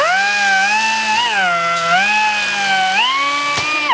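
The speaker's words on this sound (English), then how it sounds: "Just use my little belt sander." A small belt sander grinds bicycle seat stays, a loud close whine holding a steady pitch that dips and rises as pressure on the tubing changes.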